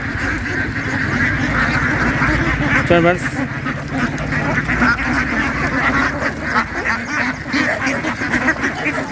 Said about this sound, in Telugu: చాలా చాలా వేల లక్షల బాతులు ఉన్నాయి